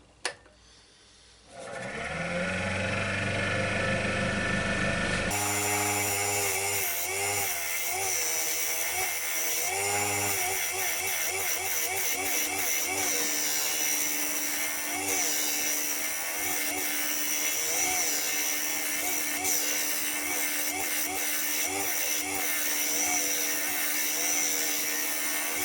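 A woodturning lathe spins a wooden pot pourri bowl while a tool takes a very gentle cut. A continuous, loud whirring grind starts after a short quiet moment and runs unbroken to the end.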